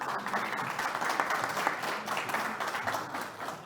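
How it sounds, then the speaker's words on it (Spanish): An audience applauds to welcome a speaker at a corporate software-testing event, with dense, steady clapping from a crowd that holds throughout and eases slightly near the end. "recibamos un aplauso a María Clara"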